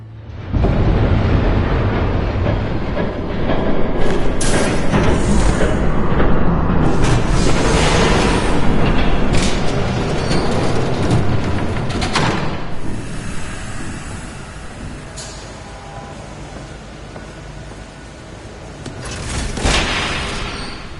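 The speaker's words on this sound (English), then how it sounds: "There's a train coming." A train approaching in a Batman video game, a long loud rumbling and hissing roar that swells in from near silence, carries on with scattered clanks and bursts, then eases before a brief final surge, no talking.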